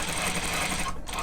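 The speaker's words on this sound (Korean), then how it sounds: "바지 뒷판 이렇게 다트를 이렇게 접어가지고 박음질을 해주세요." A sewing machine stitches a folded dart on the back panel of wide two-tuck slacks, a fast continuous mechanical whirr running close and steady, briefly dipping near the end before resuming.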